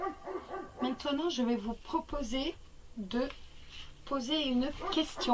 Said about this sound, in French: Chut, c'est pas mon chien, c'est le chien du voisin.